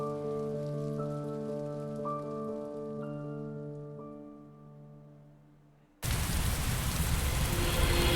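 Steady rain hisses loudly and evenly in the video game Heavy Rain after a sustained, layered musical tone fades out, the downpour continuing without pause.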